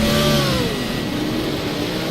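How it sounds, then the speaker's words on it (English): Racing car engine in a video game, a loud continuous roar with a falling pitch sweep as the car changes speed, holding steady at full volume throughout. "Oh, I love the sound of this car."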